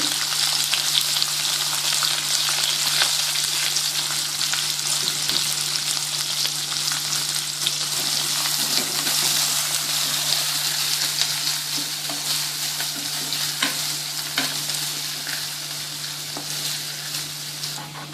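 Onions, green chilies and curry leaves fry in a pan for a ridge gourd moong dal curry, a steady loud sizzle with faint stirring scrapes throughout, no talking.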